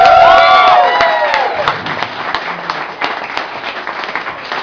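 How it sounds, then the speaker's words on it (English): Applause from a crowd at a private party with a tribute band, dense clapping that swells and then thins out, with some cheering on top. It begins under a sustained musical tone that fades away. "Big applause"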